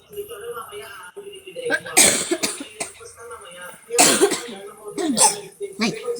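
Several harsh coughs in short bursts, close to the microphone, with speech and household noise in between, during home cooking of sautéed corned beef.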